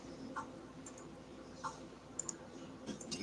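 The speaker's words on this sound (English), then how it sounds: "I have to do a little bit more clicking like I usually do." A computer mouse clicks softly, with a handful of scattered light clicks over a quiet room hum, no talking.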